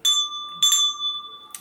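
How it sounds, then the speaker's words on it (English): A small hand bell is struck three times, each strike a bright, sustained metallic ring that hangs and fades between strikes, close and clear with no talk over it. "let me get my bell"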